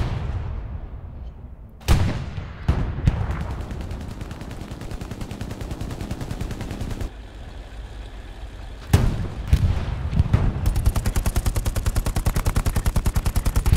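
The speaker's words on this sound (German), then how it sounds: "der Panzer hier gerade beschießt." Heavy tank cannon fire in the World War II shooter Hell Let Loose: loud booming shots at about 2 and 9 seconds, with sharp gunfire cracks after each and a steady rattling machine gun running through most of the stretch, no talk.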